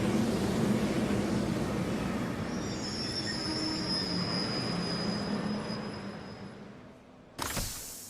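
A train from the Trails of Cold Steel III video game pulls into a station, a loud rumbling roll with high squealing wheels that slowly fades as it brakes, ending in a brief clunk.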